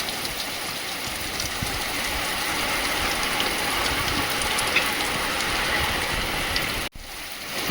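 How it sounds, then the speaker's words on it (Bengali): Heavy rain pours down steadily outdoors in a dense, continuous hiss of drops on surfaces, loud and unbroken, briefly cut short near the end. "ভালোই বৃষ্টি শুরু হয়েছে।"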